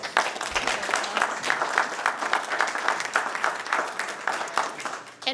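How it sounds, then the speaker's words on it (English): Applause at a ward town hall meeting in honor of the fire department, a room of people clapping in a steady, crackling stream of individual claps at moderate volume. "applause."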